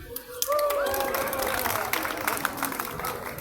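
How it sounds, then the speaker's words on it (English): A street performance crowd claps and cheers together, a brief burst of applause with a voice calling out over it at the start. "Everyone here, massive round of applause for Moyan."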